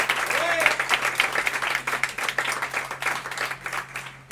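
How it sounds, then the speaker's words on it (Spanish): Applause at a Halloween PechaKucha event for the technician, a lively round of many hands clapping in an indoor hall, steady then tapering near the end, with a little talk early on. "Tenemos aquí un aplauso para el técnico, por favor."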